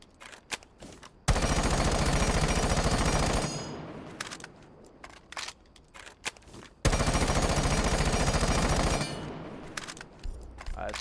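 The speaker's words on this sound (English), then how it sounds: "That's Compensator, guys." Automatic gunfire from a weapon fitted with a compensator in the video game Rainbow Six Siege, two long sustained bursts of rapid shots, loud and close, separated by quieter gaps with scattered single cracks and footsteps.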